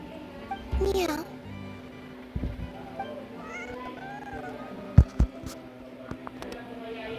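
A cat meows once in the Genshin Impact video game, with a quiet game hum underneath and a few soft thumps afterward.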